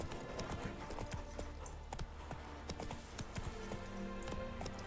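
Rhythmic hoofbeats of a horse galloping in the video game The Witcher 3, a fast clip-clop pattern at moderate distance over a steady game background, fairly quiet.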